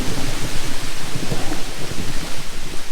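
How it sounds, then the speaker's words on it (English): Heavy rain falling outdoors at a deer hunting stand, loud and continuous, with deep rolls of thunder and gusting wind. "It started raining again, so we got that going for us, I guess."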